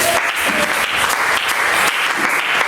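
Steady, dense applause from a large church congregation, loud and continuous throughout without pauses.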